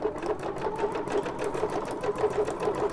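A sewing machine stitches a decorative pattern on book-page paper for a junk journal belly band, with a close, steady, rhythmic needle chatter throughout.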